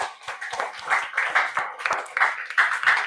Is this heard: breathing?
no